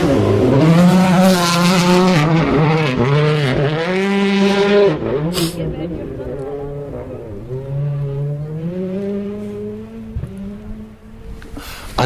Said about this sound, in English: Another Hyundai coming through.